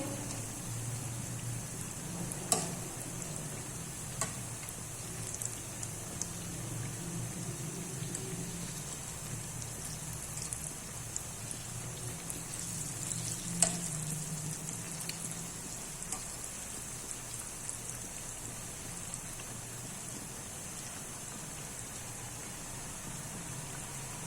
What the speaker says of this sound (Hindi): अब हम इसको ब्राउन होने तक पकाएंगे।